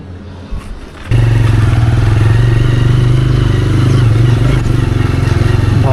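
A motorbike riding on a mountain road toward Old Manali, starting with quiet handling noise, then a loud close engine drone kicking in and holding steady with some rattle.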